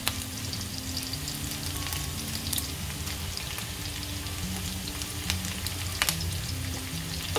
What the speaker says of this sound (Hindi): तो ये यहाँ पे हो गया है। इसमें डाल देते हैं करी लीफ